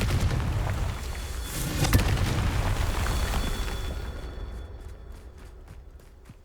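A Confringo fire spell blasting in Hogwarts Legacy, with a loud, dense fiery roar and a sharp burst near the start that rumbles on and gradually fades away, with no voices over it.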